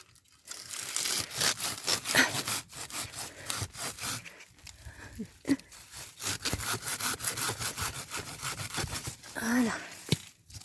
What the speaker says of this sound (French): Là en bas on va essayer avec la scie.